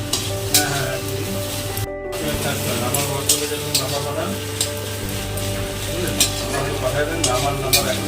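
Taro leaves (kochu shak) sizzle steadily in a hot pan while being stirred, a close continuous frying hiss with repeated scraping and clinking strokes, a brief gap in the middle, and a voice faintly underneath.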